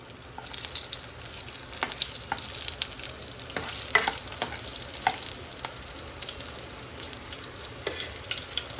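Garlic frying in hot oil in a home kitchen while Goan-style clams are being cooked, a steady close sizzle with scattered crackles and spatter pops and the scrape of stirring, with no talk.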